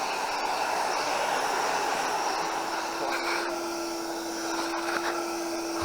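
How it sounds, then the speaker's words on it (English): A regular household hoover runs steadily on a fabric sofa, pulling up dry soil with a loud, continuous whirring roar and a faint steady whine, the motor's drone holding close and unbroken throughout with no one talking. "It's removing the dry soil just by a regular hoover."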